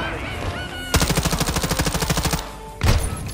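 A rapid burst of automatic gunfire in a first-person shooter game crackles close and loud for about a second and a half, followed a moment later by a single heavy blast.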